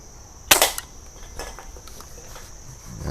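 A single sharp crack from an Umarex NXG multi-pump air rifle firing a pellet at cans, with a brief faint metallic follow-up and little else around it.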